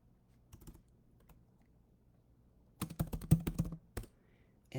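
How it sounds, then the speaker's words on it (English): Computer keyboard typing: a few faint, isolated keystrokes, then a dense flurry of quick clicking taps in the middle of an otherwise quiet room, ending with a single tap. "let me type in my good morning here"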